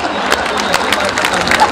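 Audience at a Hindi comedy poetry show breaking into a dense, steady burst of applause and crowd noise, loud and close throughout.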